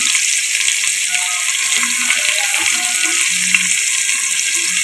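Onions and green chillies for mutton biryani fry in a pan with a loud, dense, continuous sizzle, close up and steady throughout, with no talk.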